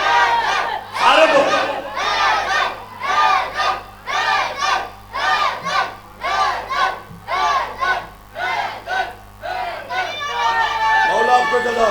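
A large crowd at a Shia majlis chants together in loud rhythmic call-and-response, roughly one shout per second, and the voices swell and fall in steady waves.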